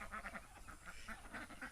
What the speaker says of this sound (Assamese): ইমান বেয়া হাঁহ কেইটা আছে